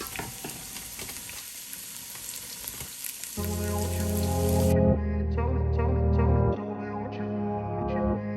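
Carrots and cabbage hit hot olive oil in a pan, breaking into a loud, continuous sizzle with stirring scrapes and spitting crackle, close by.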